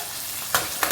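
Chicken gravy ingredients sauté with salt in a pan, a steady close sizzle with two short bursts of stirring scrapes, no talk.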